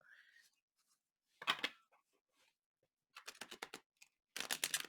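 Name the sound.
shuffling a thick tarot card deck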